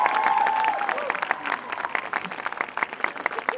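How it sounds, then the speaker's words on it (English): A rally crowd at a Georgia event applauds a freshman representative, dense clapping filling the stretch, with a brief voice at the start and scattered cheers mixed in. "Give him a big round of applause."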